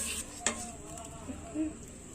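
Gooseberry (nellikaai) pickle being stirred and mixed in a pan, with soft scraping, light sizzling and a sharp utensil tap against the pan near the start, all close and fairly quiet.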